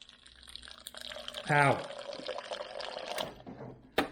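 Short gush of water from an LG refrigerator's door dispenser, close and brief, with a person talking before and after and a sharp click near the end.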